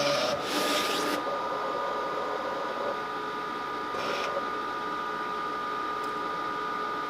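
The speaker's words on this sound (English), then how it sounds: "send this to the cutter. So now that our cut is finished," A Graphtec CE6060 vinyl cutter cuts vinyl with a steady motor hum and whine, broken by short bursts of brisk carriage movement.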